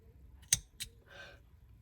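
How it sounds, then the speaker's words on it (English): Scissors snip through crochet yarn at the end of a row, giving two sharp close clicks a moment apart followed by a brief soft rustle, in an otherwise quiet room. "and then cut off the yarn"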